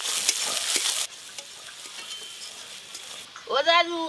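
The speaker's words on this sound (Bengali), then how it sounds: "গোটা গরম মশলা পেঁয়াজ কুচি পেঁয়াজটা একটু ভালো করে ভেজে নেব" Chopped onions with whole garam masala fry in oil, giving a soft sizzle with a few stirring scrapes. A louder burst at the start and a voice near the end break in.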